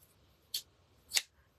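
Two crisp scissor snips, half a second apart, as craft material for a snowman garland is cut in half; each snip short and bright against a quiet background with no talking.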